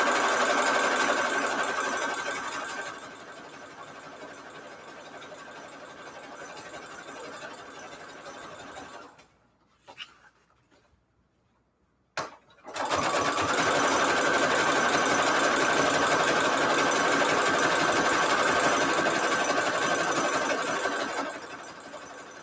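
A sewing machine stitches continuously around the edges of string-quilt patchwork junk journal pages, running steadily and close for several seconds at a time, stopping briefly for a near-silent pause, then starting again and running on.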